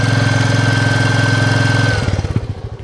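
Royal Enfield motorcycle engine running at roughly 2200-2500 rpm, a steady close hum that drops back near the end into slower, distinct thumping pulses.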